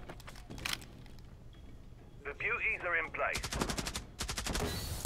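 Gunfire in the video game Rainbow Six Siege: a short rattling burst opens, then a rapid, loud volley of repeated shots near the end, with a player's voice talking in between.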